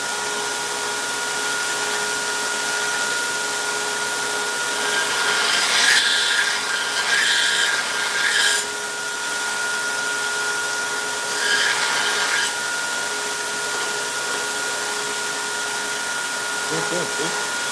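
A bench grinder touches up the bevel on a hand-forged custom knife: a steady whining hum with louder bursts of grinding contact, with a voice talking over it.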